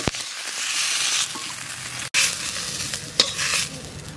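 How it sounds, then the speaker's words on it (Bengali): Greens fry lightly in a wok with a close, steady hiss, briefly cut off once before resuming, with soft stirring scrapes and a few pops. "ভাজা হয়ে গেছে, একটু হালকা হালকা ভেজে নিলাম।"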